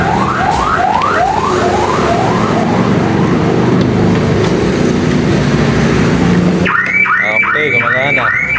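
Aftermarket car alarm on a Toyota Corolla, set off through the door switch sensor, blares loud and close with a repeating rising siren tone that shifts into a different warbling pattern near the end.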